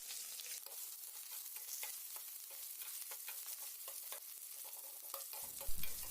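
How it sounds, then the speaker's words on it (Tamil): Onions, garlic and green chili sauté in a pan for road-side masala puri, a continuous crackling sizzle dotted with the scrape and clack of a stirring spoon, fairly close and unaccompanied by voices. "நெக்ஸ்ட்டு கட் பண்ண வெங்காயம் சேர்த்துட்டு இதை நல்லா வதக்கிக்கலாம்"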